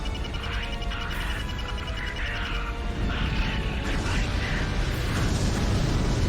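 Space-combat explosion in the video game Wing Commander Saga, a broad rumbling blast washing over a steady engine drone and swelling slightly louder toward the end, with no clear separate impacts.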